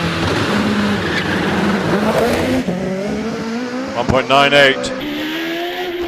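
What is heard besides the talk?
4-litre Judd-engined race car on hill climb run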